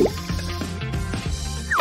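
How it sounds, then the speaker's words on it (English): Ice cream being pushed under hot water, giving a run of close wet drips, plops and small gurgling liquid sounds. "Just submerge the ice cream in the hot water."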